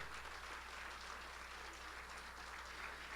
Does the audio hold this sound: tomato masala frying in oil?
no